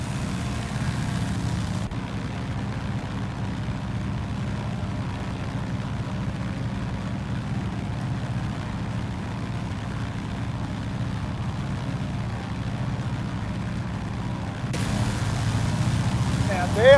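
Low, steady drone of a DHC-2 Beaver's radial piston engine in the X-Plane flight simulator, idling evenly and continuously, with a slight rise in level near the end and no talking.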